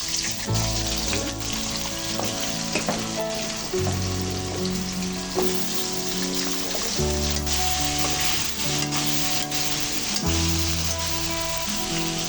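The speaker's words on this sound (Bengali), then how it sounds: "এবারে আমি আলুগুলো আবার এর মধ্যে ভাজি করে নেব আধা ভাজি আর কি হালকা ভাজি করে নিয়ে নেব" Potatoes are lightly fried in a pan, giving a loud, continuous sizzle with scattered crackles while music plays over it throughout.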